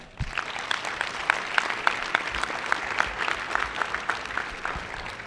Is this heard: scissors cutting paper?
no